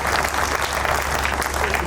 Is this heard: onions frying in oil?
no